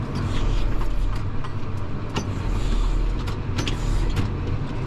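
A car that has lost all its power steering, being driven to a repair shop, with a steady low engine and road drone inside the cabin and a few faint higher squeaks and clicks over it.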